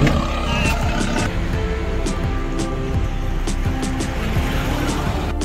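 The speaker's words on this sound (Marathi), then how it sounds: "रिक्षा पण जाते वरती बघा" Auto rickshaw straining up a steep road toward Saptashrungi fort near Nashik, its engine droning steadily and fairly close, with a voice talking over it.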